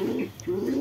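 Pigeons coo softly in two short throaty phrases beside their chicks in a loft, close and alone with no voices.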